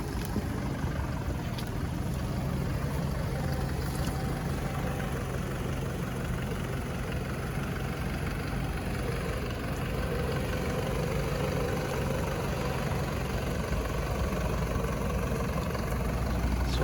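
A new 2022 Mitsubishi Fuso Canter Euro 4 truck idles, its diesel engine giving a smooth, steady low rumble heard from nearby without speech.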